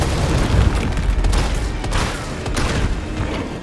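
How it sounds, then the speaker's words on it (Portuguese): A rapid string of loud, heavy shotgun blasts in the video game Resident Evil 3 Remake, close and booming, with a low rumble carrying between the shots. "Dá pra dar vários tiros de shotgun."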